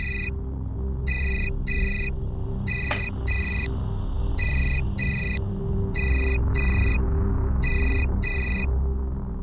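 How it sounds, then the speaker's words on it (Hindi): A telephone ringtone in an Indian TV drama scene, repeating short bright electronic double-beeps in an even rhythm, loud and close over a low background hum, with no talking. "तुम्हारा फोन बज रहा है।"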